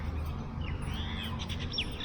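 A plover calling in short, high chirps and sweeping whistles over a steady low rumble of background noise outdoors during DIY work, with no talking.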